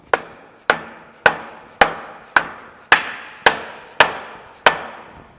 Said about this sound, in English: using the seal install tool that we've also have here, and it works really slick, fits exactly with this seal, and we can drive that seal on there.